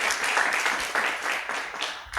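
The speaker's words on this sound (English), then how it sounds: "Can I have a round of applause for Elisenda, please?" Brief applause from a livestreamed hackathon audience, a steady wash of clapping with small swells, fairly close and moderately loud, no talking over it.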